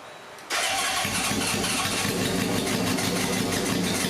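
A Honda CB750 motorcycle engine cranks and catches after a short quiet moment, then settles into a loud, steady, close-up running rumble.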